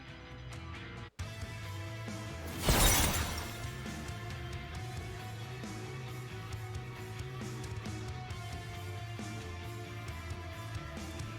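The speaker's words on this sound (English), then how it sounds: "The crimson shackles on her shatter at once." Crimson shackles shatter in the video game Path to Nowhere, a single loud burst-like crash that flares briefly early on and then fades into a steady musical background with no voices.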